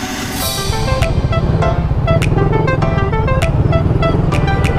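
A busy road in Calamba, Laguna heard from a bike ride, loud, close traffic rumble with a long string of repeated car horn honks and toots.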